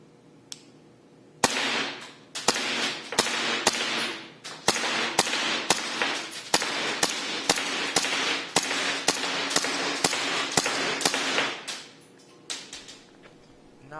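A KJ Works KJW M9 airsoft pistol fires a steady run of about fifteen sharp, snappy shots at targets, each crack evenly spaced and close, with a quieter lull before the first shot and after the last.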